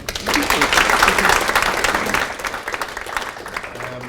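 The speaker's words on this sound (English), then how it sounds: "if we can give Wendy one more round of applause" A breakfast-seminar audience applauds a speaker, a burst of clapping that swells quickly, then thins and tapers toward the end.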